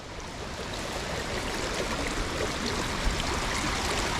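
Beaver Dam Creek, swollen after four inches of hurricane rain, flows steadily with a broad rushing and babbling sound, constant and fairly close, with no voices.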